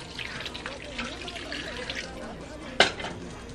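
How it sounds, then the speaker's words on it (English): Water pours and trickles into a pot of curry, a soft running splash with one brief louder clatter near the end. "Gonna add some water."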